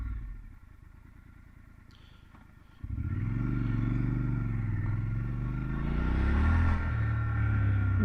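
A Triumph Scrambler 1200 XC motorcycle rolls onto gravel in off-road mode, its engine rumble jumping up after a quieter stretch and then droning steadily and close, swelling slightly toward the end.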